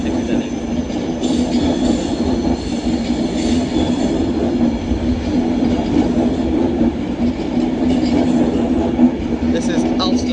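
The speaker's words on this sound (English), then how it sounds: "This is 390-104 forming the 1440 Avanti West Coast service to Manchester Piccadilly." An Avanti West Coast Class 390 Pendolino electric train rumbles steadily past at Primrose Hill in London, a loud, sustained roar of wheels and motors with faint squeal, while someone talks over it.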